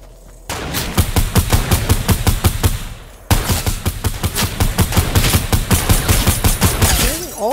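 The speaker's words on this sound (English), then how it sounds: "All your sniper shots." Rapid gunfire in a desert-zone video game match, sniper shots cracking in dense repeated bursts that are loud and close, with a brief gap near the middle before the volley resumes.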